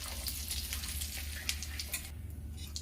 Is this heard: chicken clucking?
no